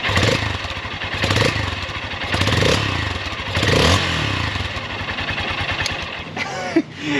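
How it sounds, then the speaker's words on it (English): A Honda XR150L motorcycle with a very quiet stock exhaust idles and runs with a low, steady rumble, fairly close, with occasional clatter and scraping noises. "That is honestly one of the quietest exhausts I've ever heard"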